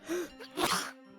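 A single sharp sneeze bursts out loudly, with a short breathy intake just before it and a faint trailing tail.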